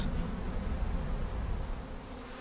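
Honey bees hum in a dense, steady buzz from a colony carrying a heavy Varroa load, a fairly faint but unbroken swarm sound with no speech.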